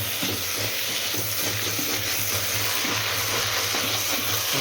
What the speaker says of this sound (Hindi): अच्छी तरह से घुमाना है ताकि वो नीचे बर्न ना हो जाए